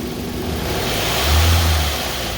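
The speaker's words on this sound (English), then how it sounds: "Go ahead and give us some gas." A car engine in a workshop, hooked up for crank and cam position sensor testing, is given throttle, rising from idle into one short, loud rev and settling back down.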